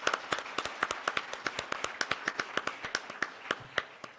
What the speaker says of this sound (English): So a big round of applause to all of you.